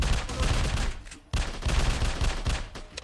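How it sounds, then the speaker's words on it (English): Rapid, loud bursts of shotgun and other gunfire in a video game about a park ranger hunting illegal animal poachers, one dense volley after another with a brief gap near the middle. "That guy's got a shotgun."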